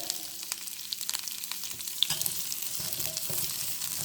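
Whole spices sizzle and crackle steadily in hot oil for mutton chops, with dense bright spitting, scattered pops and occasional stirring scrapes, close and continuous, with no voices.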